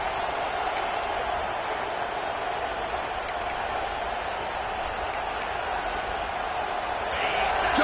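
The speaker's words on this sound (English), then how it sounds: "this home crowd is fired up and ready to make a difference today" Steady roar of a home crowd at a college football game, a broad continuous wash of cheering and noise throughout, rising slightly at the end, with no distinct voice standing out.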